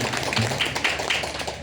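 Audience applause for Mas Ismail Fahmi at an agricultural office speech event in Bojonegoro, a dense, steady patter of many hands clapping close by, lasting throughout.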